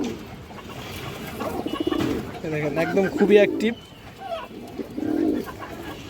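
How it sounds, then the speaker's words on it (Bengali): A red chulli female pigeon coos in low, throaty bursts that rise and fall, close by, while a person talks over and between the calls. "লাল চুল্লি মাদি কবুতর আছে"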